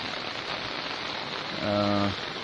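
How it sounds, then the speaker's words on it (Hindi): Heavy rain falls steadily over flooded city streets in Jhelum, a constant broadband hiss with a voice speaking briefly partway through. "तकरीबन पूरा शहर ही डूब चुका है बारिश की वजह से"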